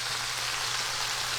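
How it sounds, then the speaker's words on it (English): Scallops sear in a hot pan with a steady, dense sizzle and crackle, close and fairly loud, unbroken for a moment with no voices over it. "That is sizzling. Sizzling away."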